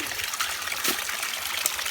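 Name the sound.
fresh mountain water being poured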